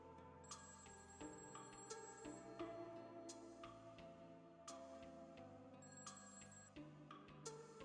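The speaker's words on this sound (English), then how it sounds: "I heard my phone ring." A phone ringing in 1986 Hong Kong, a quiet repeated electronic ring recurring at regular intervals over a dense low background of music and ambience, faint and somewhat distant, with no speech.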